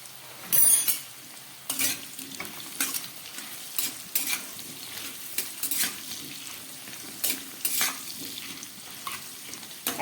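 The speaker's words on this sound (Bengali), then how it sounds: "পেঁপে আলুটা অনেকটা ভাজা হয়ে গেছে" Papaya and potato pieces fry in a pan, a soft steady sizzle broken by sharp scraping and clinking as a spatula stirs them in quick, irregular strokes; no one speaks.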